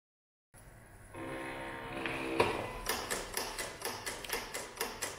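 A Silhouette cutting machine engraving or scoring material: a quiet motor whir builds, then settles into a regular series of soft mechanical ticks and thumps, close and alone.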